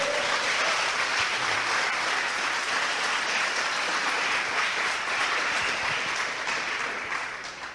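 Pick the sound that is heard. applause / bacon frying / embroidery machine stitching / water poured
applause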